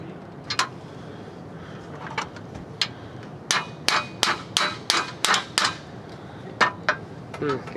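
Sharp metallic hammer strikes ring out, sparse at first and then in a steady rhythmic run of blows, close and clanging.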